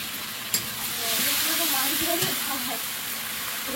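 Tomato paste fries in a home kitchen pan with a steady sizzle and hiss, a few sharp spatula clicks and stirring scrapes rising through the middle.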